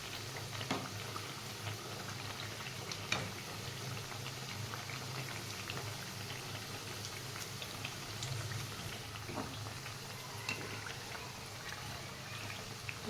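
Kothimbir vadi made with bajra flour frying in oil over low heat, producing a faint, continuous bubbling sizzle with occasional small pops, with no voices.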